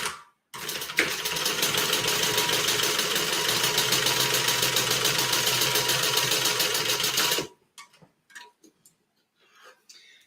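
A sewing machine top-stitches fabric folded around a decoupage piece, running in one steady, loud, continuous burst for several seconds before stopping abruptly, followed by a few faint clicks and handling sounds.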